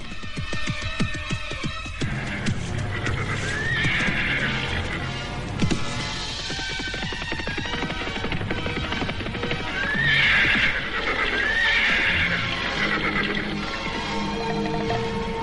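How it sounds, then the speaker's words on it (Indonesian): Horses whinny loudly and repeatedly over a steady clip-clop of hooves as a royal riding party halts, with the neighs near and prominent above a dense backdrop of movement. "Prabu Sana menghentikan kudanya"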